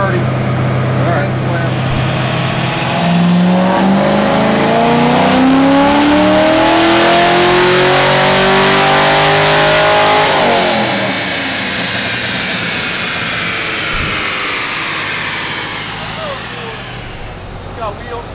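An LS3 V8 with a cam package roars through a long dyno baseline pull, its pitch climbing steadily to a loud peak before dropping off and settling into idle, with no talking over it.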